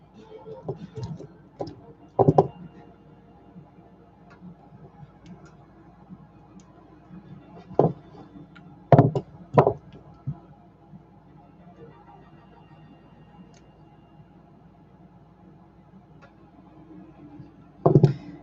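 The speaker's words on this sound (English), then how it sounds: "Let me cut that wire real quick." Wire snipped with hand cutters while wrapping: a few sharp, brief clicks spread apart, the loudest pair close together, over a quiet low background hum.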